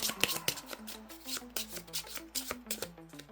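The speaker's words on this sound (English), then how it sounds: "So we will shuffle our Maverick deck" A deck of cards for a board game is riffled and shuffled up close, a run of crisp, rapid fluttering bursts with short pauses between them, quiet and alone.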